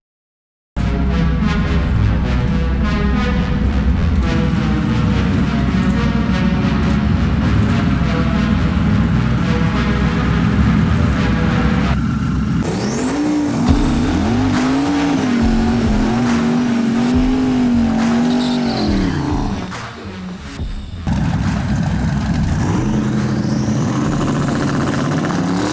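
A race car makes a drag run at a racing event. Its engine roars loud and steady at high revs for a long stretch, falls briefly, then picks up again, with no voices.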